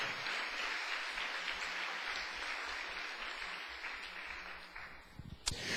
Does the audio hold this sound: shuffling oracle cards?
no